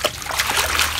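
Water splashes and sloshes as quelites greens are rinsed to wash off soil, a short, dense burst of close splashing with no talk over it.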